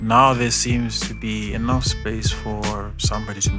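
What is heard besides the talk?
No distinct noise like a dog, phone or traffic.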